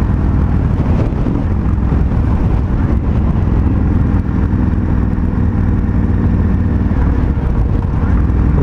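A 2019 Indian FTR 1200S motorcycle being ridden, its engine a loud, steady roar mixed with wind rush that holds without a break.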